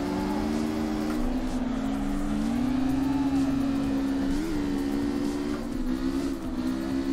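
Drift car engine in CarX Drift Racing Online on Xbox One, a loud, continuous droning rev that wavers and bends with the throttle, running near and steady with no talk.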